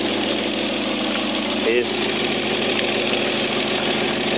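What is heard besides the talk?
Ford Freda / Mazda Bongo 2.0 petrol engine idling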